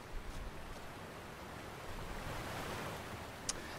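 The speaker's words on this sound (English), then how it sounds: "The water effect sounds really loud." Ocean waves in The Last of Us Remastered video game, a soft continuous wash of surf and rushing water at low level, steady throughout with one brief sharp tick near the end.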